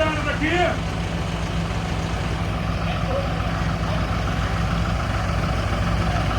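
A John Deere tractor engine rumbles in a low, steady idle nearby, continuous throughout, with voices talking over it.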